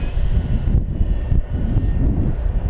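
Hobby King Avios Yak-52 1200mm RC model airplane flying an inverted pass overhead with its gear down, a steady loud engine drone that dips briefly before surging back, heard alone.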